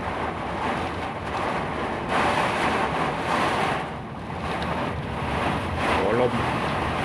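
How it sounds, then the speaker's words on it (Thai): Strong storm wind at a fertilizer plant in Nakhon Luang, roaring steadily and close into the microphone throughout with broad rumbling gusts, while people talk under the noise. "ลมแรงมากเลย"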